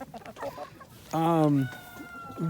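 Chickens from a backyard flock affected by Marek's disease cluck softly up close. A longer, drawn-out call rises in the middle, and a few more short clucks follow at the end.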